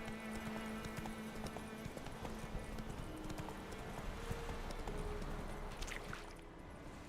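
Roach, the horse in the video game The Witcher 3, gallops with rapid, steady hoofbeats that run continuously under quiet background game sound, fading slightly at the end.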